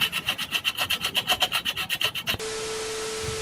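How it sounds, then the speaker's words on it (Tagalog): Sandpaper scrubs stuck plastic off a laminating machine part in fast, even back-and-forth strokes, about eighteen close rasps in a row, followed by a steady electrical hum. "ginamitan ko na ng liha para mas matanggal ng ayos yung mga nakadikit na plastic."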